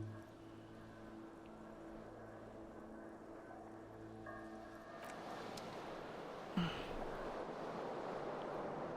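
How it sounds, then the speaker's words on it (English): A cool wind gushes in across a scene in Disco Elysium, a broad steady rush that swells louder midway, with a soft thump near the end, over quiet ambient tones and no voices. "A cool wind gushes in."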